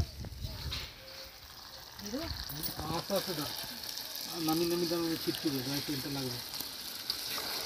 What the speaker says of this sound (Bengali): এবার মাংস দেওয়া হচ্ছে মশলার মধ্যে, আর একদিকে কষানো চলছে।